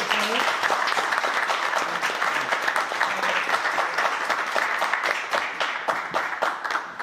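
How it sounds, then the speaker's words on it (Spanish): An audience gives a dense, steady round of applause for relatives of Carlos Droguet, the clapping close and continuous for the whole stretch, with faint murmuring voices mixed in. "un aplauso, por favor"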